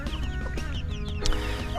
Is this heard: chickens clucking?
yes